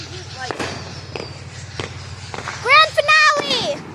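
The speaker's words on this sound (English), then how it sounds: "Lord knows how many fireworks people have." Fireworks going off outdoors, scattered sharp pops and bangs over a steady low hum, with voices talking partway through.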